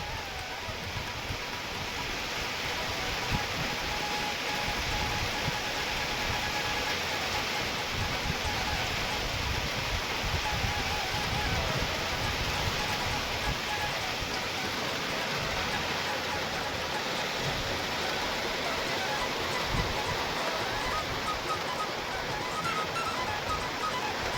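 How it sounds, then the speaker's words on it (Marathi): Sudden heavy rain falls outdoors during a sunny spell, a steady, dense hiss of downpour that holds evenly for the whole stretch, with no voices over it. "अचानकच पाऊस सुरू झालाय राव"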